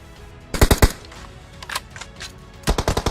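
Gunfire in the PUBG Mobile video game comes as rapid bursts of loud automatic shots, one short burst early and another near the end, with a fainter spatter of shots between them.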